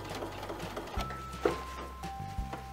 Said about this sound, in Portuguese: Fazer um retrocesso no início da costura para ela não descosturar.